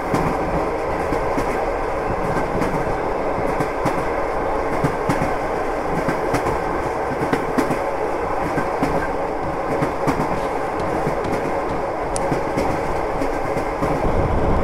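A train running on rails in the Melon Playground video game, a steady loud rumble with repeated clickety-clack of wheels over track joints, continuous throughout.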